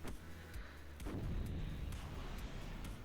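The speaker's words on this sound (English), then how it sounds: "Second missile on the way." Missile launch and impact in the WARNO real-time strategy game, a deep low rumbling boom with periodic sharp crackles over a steady, faint battle-noise bed.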